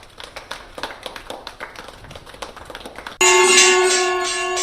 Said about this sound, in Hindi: अपने घर से बाहर निकलकर बजाते नजर आए ताली।